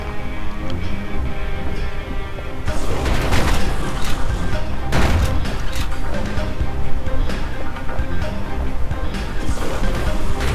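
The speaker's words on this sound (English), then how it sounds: "now I'm just shooting stuff" Combat in the video game Bastion, with dense layered gunfire, booms and crashing impacts over game music, loud and continuous throughout.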